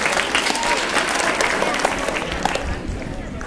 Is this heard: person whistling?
no